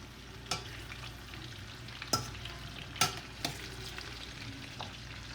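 Zucchini soup base is stirred in an oiled pan, with a quiet, steady sizzle and a few sharp scrapes and knocks of a spoon against the pan spaced out over several seconds.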